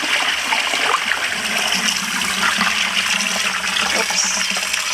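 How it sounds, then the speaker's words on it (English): Tap water runs steadily over salted smoked herring as it is rinsed, a continuous close hiss and splash with no talking. "You can give it a good rinse first to remove that salt at the top."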